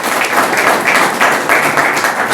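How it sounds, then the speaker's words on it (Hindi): A crowd at an association election meeting gives loud, close applause for the newly elected general secretary, with dense clapping that swells in rhythmic waves throughout. "तो महासचिव के लिए एक बार जोरदार ताली"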